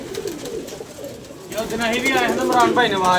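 A domestic pigeon coos in a throaty, warbling call that comes in partway through, loud and close, while people talk around it.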